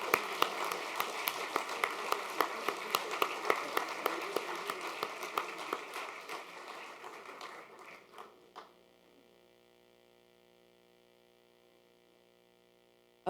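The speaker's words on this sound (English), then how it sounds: "give these teams a wonderful round of applause" Steady applause from a quiz bowl audience, many hands clapping together, gradually thinning out and fading to near silence.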